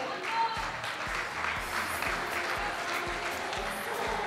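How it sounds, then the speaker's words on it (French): Steady audience applause at a film festival closing ceremony, dense even clapping from a large hall with a soft rhythmic thump beneath, continuing throughout. "Sous vos applaudissements, s'il vous plaît."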